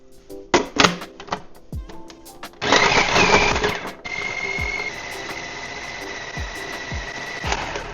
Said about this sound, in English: Once the Parmesan is blended